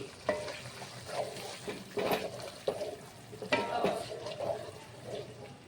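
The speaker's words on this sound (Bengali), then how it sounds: "দইটা দেওয়ার পরে আবারও 2-3 মিনিট মতো নাড়াচাড়া করে নিতে হবে।" Yogurt being stirred into chicken malai kofta gravy in a pan, with soft scraping and a light sizzle recurring in short strokes at close range.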